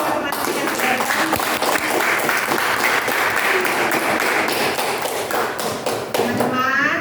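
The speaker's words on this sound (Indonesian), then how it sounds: "tepuk tangan buat teman-teman yang sudah datang" A classroom group at an Islamic religious education micro-teaching session claps loudly and continuously, crisp close hand claps forming a full round of applause that holds steady before tapering at the end.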